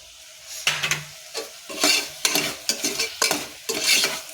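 Vegetable biryani base of tomato and onion with biryani masala, chilli and turmeric powders being stirred and fried in a pan, with repeated scraping strokes over a soft sizzle and the occasional clink of a metal spoon against the pot.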